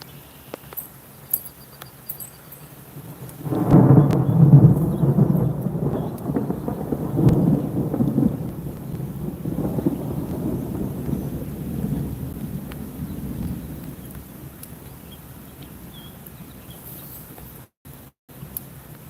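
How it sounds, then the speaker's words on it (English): Thunder rumbles through a thunderstorm outdoors near a bass-fishing spot, a loud rolling boom that swells, then trails off slowly over many seconds above a steady background hiss. "Lightning right there."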